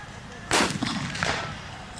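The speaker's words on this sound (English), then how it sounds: "So some more mortars coming in." A mortar round bursts at a WWII battle reenactment, a sudden loud boom at mid-distance followed by a rolling echo and a second fainter thump as it fades.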